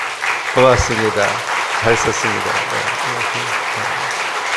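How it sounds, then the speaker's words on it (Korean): Church congregation applauding to thank the building's owner, steady clapping running beneath someone speaking briefly over it through most of the clip. "감사한 표현으로 박수로 한번"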